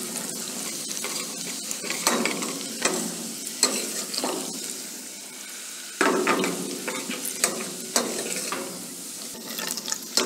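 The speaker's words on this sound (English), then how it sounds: "We'll add chopped garlic at this stage and saute it well until we get a very good light golden brown color." Chopped garlic sautes in hot oil in a kadhai for gravy, a steady close sizzle with repeated scraping stirs of a spoon against the pan.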